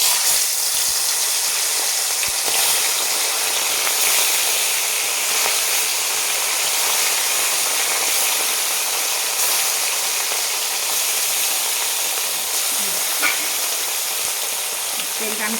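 Bata fish fries in hot oil in a pan with a loud, steady hiss and crackle that runs the whole time, with no talking.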